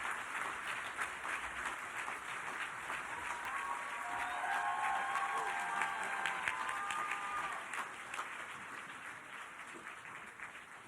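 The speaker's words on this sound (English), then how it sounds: "Let's give Mariama one more round of applause." Audience applause at an annual celebration gala, a steady wash of many hands clapping throughout at moderate distance, swelling slightly in the middle before easing off.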